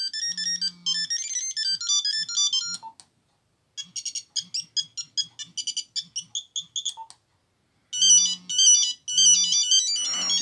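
Polyphonic ringtone melodies from a Nokia 5210 mobile phone made in 2003, several short beeping tunes played back to back with brief gaps, clear and close, with no talking.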